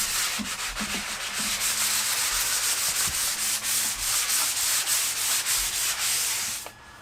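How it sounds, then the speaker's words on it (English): Wood is sanded by hand with a Gator 220-grit sanding block on a CNC threaded wasteboard, giving close, continuous rubbing strokes in a steady back-and-forth rhythm that stop abruptly at the end, with no talking. "now what I like to do is take a little bit of sandpaper. This is a Gator sanding block, 220 grit."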